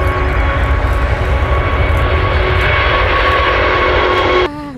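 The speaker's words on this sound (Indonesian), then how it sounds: "Wah, lihat ini ada pesawat Garuda Indonesia, teman." A Garuda Indonesia airliner's engines roar steadily and loudly for nearly the whole stretch, a continuous broad jet-aircraft drone with tonal whine, cutting off abruptly near the end.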